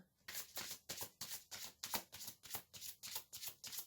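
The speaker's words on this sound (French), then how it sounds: "Je vais tirer d'autres cartes." Tarot cards being shuffled and drawn, a steady series of about a dozen crisp riffling bursts in even rhythm, close and fairly quiet with no talking.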